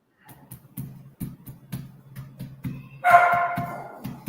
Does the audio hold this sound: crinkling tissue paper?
no